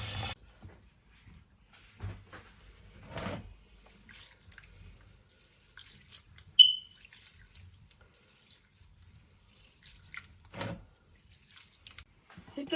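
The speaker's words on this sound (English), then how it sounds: "I'm letting the running water go in here so I can take off any extra dust" Water from a kitchen tap splashes over rice being rinsed in a bowl, coming in short separate bursts of running and sloshing with near silence between them.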